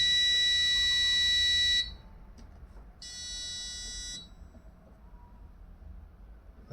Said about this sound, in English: So now we can actually change the loudness of our buzzer